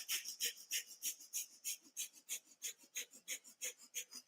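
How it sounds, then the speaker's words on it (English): Bliss breath breathing exercise: rapid, forceful in-and-out breaths through the nose only, in an even, quick rhythm of about three breaths per second, close up and sustained. "Bliss breath is in and out of the nose only."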